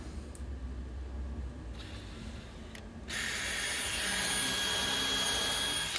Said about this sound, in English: then where it meets the wall, I'm just drilling it in on an angle